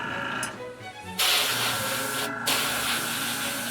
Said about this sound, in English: spraying it with the ink through the airbrush